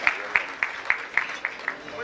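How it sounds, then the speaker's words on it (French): An audience at an African football awards night gives a light, spaced run of claps, a handful of distinct hand strikes at a moderate distance rather than a full roaring ovation. "sous vos applaudissements bien sûr"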